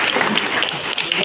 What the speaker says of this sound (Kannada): ಅವ್ರಿಗೊಂದು ದೊಡ್ಡ ಚಪ್ಪಾಳೆ